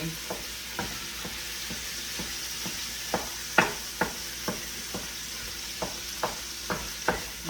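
Ground beef, 80-20, sizzles steadily in a pan while a utensil scrapes and stirs it in a loose, repeated rhythm of clicks and scrapes over the constant frying hiss.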